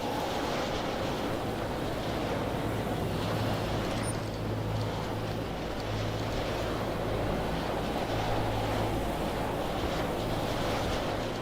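Steady wind blowing hard during a hurricane-season storm in the video game Pacific Drive, a continuous broad roar with a low rumbling undertone, constant and fairly loud throughout with no voices.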